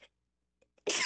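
A single abrupt, loud sneeze bursts out at the end after near silence, preceded by a couple of faint short breaths.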